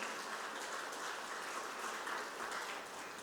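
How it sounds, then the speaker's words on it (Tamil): A church congregation at a Sunday service claps together in a steady, continuous wash of applause that stays fairly even throughout. "ஒரு பெரிய கைத்தட்டு கொடுப்போமா? வேகமா தட்டுங்க"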